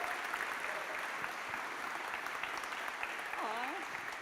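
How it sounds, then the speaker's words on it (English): Faint, steady applause from a conference audience at a web performance tech talk, a dense wash of clapping with a brief voice near the end. "please give Tim another round of applause"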